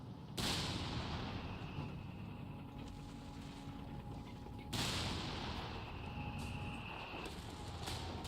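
Infantry gunfire in the Company of Heroes video game: two loud bursts of shooting break out, each followed by a sustained roar of battle noise and rumbling explosions, with no talk.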